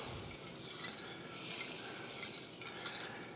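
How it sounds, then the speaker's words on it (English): Grits being stirred slowly in a pot, a faint continuous soft scraping and gentle bubbling, steady and close with no talk. "So, real slow, we're going to stir this in."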